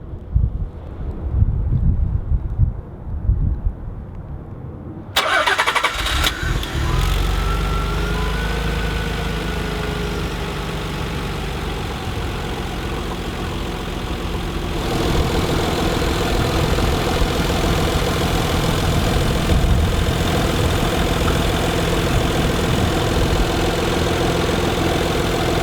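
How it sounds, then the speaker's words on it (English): A 1991 Nissan 300ZX twin-turbo with its 3.0-litre V6 and five-speed manual cranks over and fires up after a few seconds of quiet, then settles into a steady, close idle with a hum that picks up slightly midway, plus some wind noise. "Three-liter V6 with twin turbos."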